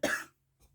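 A single sharp cough from one person, close and fairly loud, followed by a short pause and a faint trailing breath.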